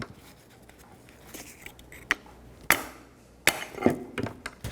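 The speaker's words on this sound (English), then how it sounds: "Now I'm going to remove the old pads because I'm reusing them." Old brake pads being pried out of a rear brake caliper on a 2007-2014 Cadillac Escalade, a few sharp metallic clacks and knocks spaced apart over quiet background, close and fairly loud.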